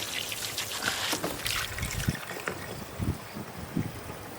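Water trickling and splashing into a camper's 20-gallon freshwater tank, a quiet irregular gurgle with soft splashy bursts, heard up close with no talking.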